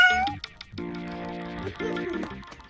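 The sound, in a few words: cat meowing in cartoon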